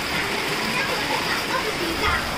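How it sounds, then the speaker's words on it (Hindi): Steady rain falling outside, an even hissing wash of drops that stays constant and moderately loud throughout, with no other sounds. "बारिश होते हुए।"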